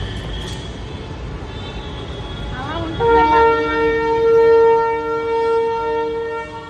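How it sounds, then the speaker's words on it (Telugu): A train rumbles nearby, then a loud sustained horn blares from midway, holding steady tones before fading slightly at the end. "ట్రైన్ పోతుంది ట్రైన్ పోతుంది"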